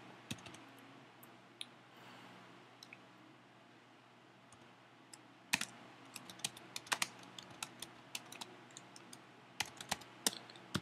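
Typing on a Mac computer keyboard, a quiet stretch giving way to bursts of crisp, irregular key clicks in the second half, close and fairly soft with a low background hum.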